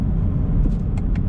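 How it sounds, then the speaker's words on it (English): Chevrolet Camaro SS 1LE with long tube headers, an X-pipe and no mufflers, heard as a steady low exhaust rumble close by inside the car, with a few faint higher ticks over the drone. "with those long tube headers, with the X-pipe and without the mufflers, you're getting a sound sensation in here that's like no other"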